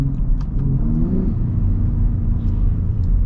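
A Ford F-150 Raptor in manual mode gives a steady, close, deep engine rumble with slight swells in revs across a few seconds, and no voices.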